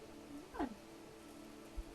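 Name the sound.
cat meowing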